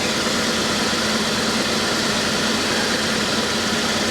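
A wrecked 1985 Chevy El Camino that sat unused for a long time idles roughly, a dense, steady engine drone with a faint uneven pulse, close and loud throughout.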